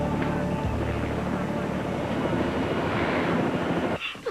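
A helicopter rotor and engine drone steadily at close range throughout, a dense continuous roar that cuts off abruptly near the end, with voices talking underneath.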